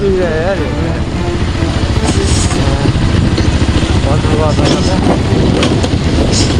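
A motorbike rides along an unpaved dirt road through quiet forest at dusk, its engine rumbling steadily and loud throughout, with wind buffeting and a person talking over the noise.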